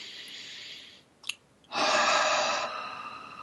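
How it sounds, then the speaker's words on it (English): Slow, deep breathing demonstrated by one person: a long, airy exhale fades out, then after a brief pause a strong, full breath follows, close and clear, with no talking. "I'm just showing you how to breathe"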